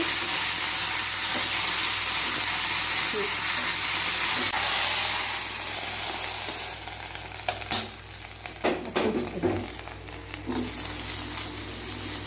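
Mint leaves lightly frying in oil in a pan, a loud continuous hiss that drops partway through to softer crackling with a few stirring scrapes and clatters, no voices.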